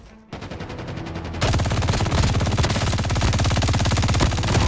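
Gunfire from a Call of Duty match bursts in rapid, evenly spaced shots, loud and close, with a brief burst before a denser continuous volley.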